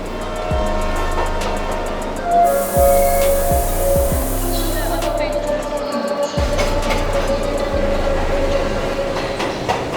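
Kalka–Shimla toy train on the 1903 narrow-gauge mountain railway, rumbling steadily with rhythmic wheel clatter over rail joints, a sustained hum and occasional squeals, loud and continuous throughout with faint voices underneath.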